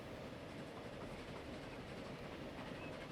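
Train rolling along rails in Transport Fever 2, a steady dense rumble with a faint clickety-clack running through it as it approaches a station at top speed, continuous and fairly loud with no voices.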